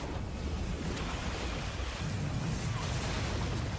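Ocean-wave skill effect from SMT V Vengeance, a steady loud wash of surf and rushing water with a windy roar, continuous throughout.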